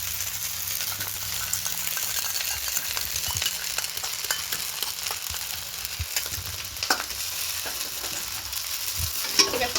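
Semolina chow mein with sauce is stirred in a pan over high heat, a steady sizzle with scraping and stirring strokes throughout, no voices heard.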